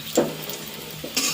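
Paratha frying in a pan in a small home kitchen: a few short, soft sizzling bursts rise over a quiet background, without any talk.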